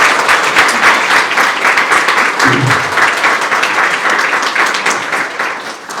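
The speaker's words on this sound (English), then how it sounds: "Let's give her another round of applause." An audience at the 2025 Heart of the Shires event gives a woman another round of applause, a steady dense wash of many hands clapping close and loud for six seconds, with no voices above it.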